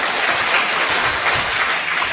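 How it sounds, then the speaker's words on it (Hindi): A crowd at a spiritual discourse led by a sant claps loudly and steadily, a dense, unbroken wash of close applause lasting about two seconds with no voices over it. "जोर से ताली बजाओ तो।"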